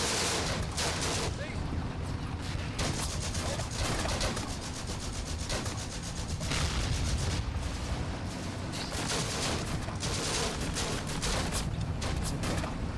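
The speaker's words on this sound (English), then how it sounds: "Got a few more rounds firing at this point" Field gun and small-arms fire rumble through a battle in the Combat Mission: Afrika Korps game, a dense, steady barrage of repeated reports and crackling shots at moderate distance throughout.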